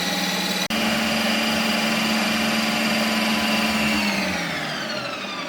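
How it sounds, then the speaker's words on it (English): A Ninja Creami machine spinning a tub of ice cream, a steady loud motorized whir with a brief click near the start, then the pitch sagging and the motor winding down as the cycle nears its end. "And it takes about a minute to spin the ice cream."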